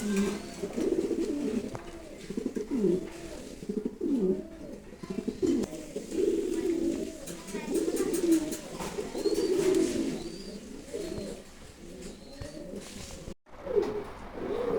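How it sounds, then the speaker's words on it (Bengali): Lahori pigeons at a farm coo steadily and repeatedly throughout, close by, with a continuous layered cooing from several birds and a brief dropout near the end. "এই যে ভাই, এই যে দেখেন কবুতর ডিম দেবো"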